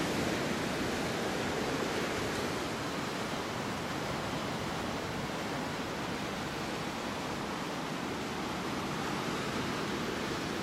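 Outdoor ambience at Laguna, a broad steady rush of ocean surf and wind, continuous and fairly loud with no talking.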